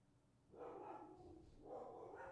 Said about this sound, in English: my dogs are going ape shit